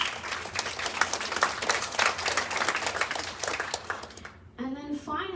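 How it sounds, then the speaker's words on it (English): An audience at a town hall meeting applauds steadily, a dense wash of clapping from many hands that fades out before a voice begins speaking. "I just wanted to give them a round of applause."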